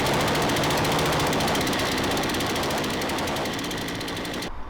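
A Hyundai chainsaw engine runs after its idle speed has been turned down. It gives a loud, rapid buzzing chatter that fades slightly before cutting off sharply at the end.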